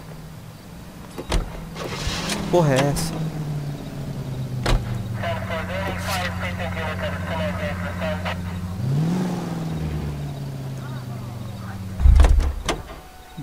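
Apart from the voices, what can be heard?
getting into and driving a car in L.A. Noire, from a video game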